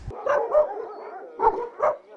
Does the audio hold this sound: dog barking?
yes